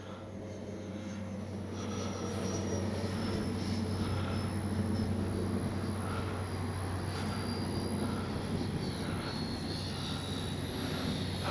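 A FlyFans K-8 Red Falcon 6S RC jet with fixed landing gear flies in to land, its motor giving a steady, continuous whine over a low, constant rumble with no talk.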